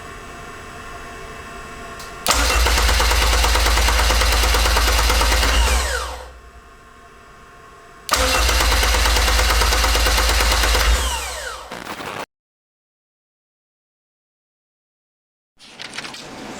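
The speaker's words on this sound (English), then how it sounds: "So I'm going to use a power probe, and I'm just going to send power to the S terminal on the starter." A K-swapped Honda CRX engine cranks over on its starter in two bursts of about four seconds each, a loud steady whirring drone that drops to quieter idle noise between them, followed by a silent stretch.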